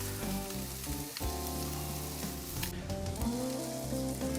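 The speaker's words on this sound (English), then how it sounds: "We're just caramelizing the top for a couple minutes." Barbecued ribs caramelize on a grill for a couple of minutes, giving a continuous crackling sizzle at close range over a low steady hum, with no voices.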